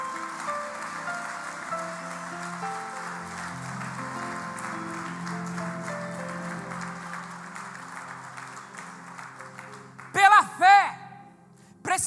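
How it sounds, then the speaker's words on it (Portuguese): A church congregation applauds in a sustained, roomy wash of clapping mixed with held keyboard chords, the clapping fading before a brief wavering synth flourish at the end. "Você pode aplaudir o Senhor?"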